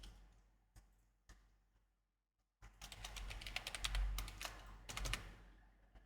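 Quiet computer keyboard taps come as a few scattered clicks, then a brief pause, then a denser run of rapid keystrokes over a low background rumble, with no talking.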